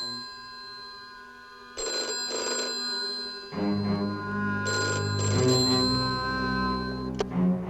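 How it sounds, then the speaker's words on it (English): A telephone rings in a pair of bell bursts indoors, followed by a louder clattering ring with low tonal hum, close and without talk. "Your phone's ringing."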